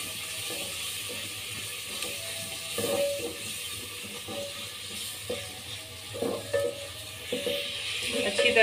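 Spice masala with tomato paste frying in a pan, a steady soft sizzle with occasional scraping and stirring knocks, fairly quiet and close.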